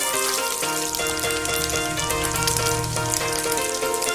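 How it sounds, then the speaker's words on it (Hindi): Eggs frying in a pan for an egg curry, turned over as they cook, give a steady loud sizzle with crackling throughout, alone and with no voices. "उलटते पलटते हुए फ्राई करेंगे।"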